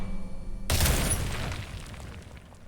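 A single shot strikes a wooden hinge in the video game Baldur's Gate 3, landing as one loud, sudden boom that rings out and fades into a long, rumbling decay with no talk.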